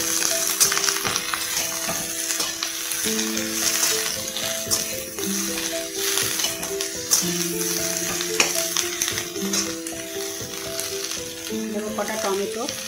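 Chopped onions and capsicum sizzle and crackle steadily in a hot pan for chili chicken, with occasional stirring, while music plays along underneath.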